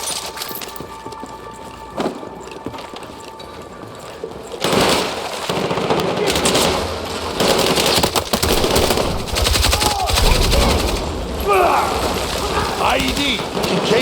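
Battlefield 6 video game gunfire during a firefight in the mission "No Sleep": a quieter opening, then from about five seconds a dense, loud, continuous spray of automatic-weapon bursts with crackling impacts and shouted voices.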